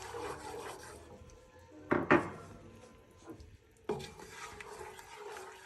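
Curry being stirred and mixed in a pan for coconut curry mussels, a soft scraping rub of utensil against pan, with a couple of louder scrapes midway and another near the end, no talking.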